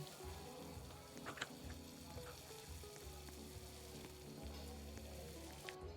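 Frying sizzle from a Roblox Restaurant Tycoon 2 kitchen, a steady crackling hiss running alone for the full stretch under low, repeating game-music tones, with no talking.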